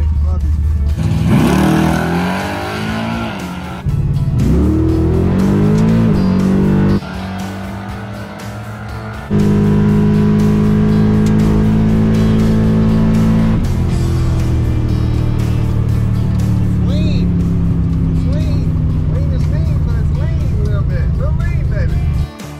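Chevrolet Malibu drag car launching on its first quarter-mile pass at a drag strip, engine roaring loud and close through rising gear pulls with brief dips between shifts, sustained for most of the run.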